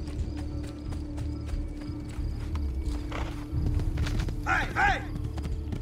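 Horse hooves clip-clop in the video game Assassin's Creed, a steady walking rhythm over game ambience, with a voice calling out briefly over it near the end.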